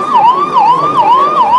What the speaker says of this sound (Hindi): एम्बुलेंस है, निकल जाने दीजिए